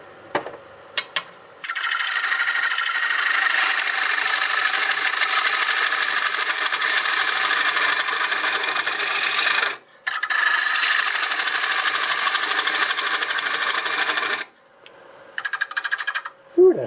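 Black walnut being turned on a wood lathe, a loud steady scraping rasp of the tool cutting the spinning wood in two long passes, with a brief pause between them and short bursts near the end.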